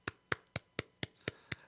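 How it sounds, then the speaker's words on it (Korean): Seven slow, evenly spaced hand claps in a church service, crisp and fairly close, sounding more like a single clapper than full congregation applause. "다시 한번 하나님께 영광의 박수를 올려드리겠습니다."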